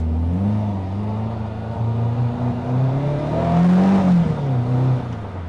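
A Caterham 420R engine blips and rises in revs with rev matching, a steady loud drone that climbs, dips and swells again toward a peak near the end, heard alone without talk.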